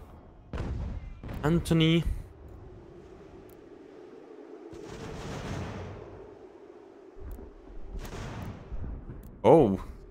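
Cannon fire in Ultimate General: American Revolution comes as several booming blasts with rumbling tails spread across the clip, a mix of distant and nearer shots, with a brief spoken word early on.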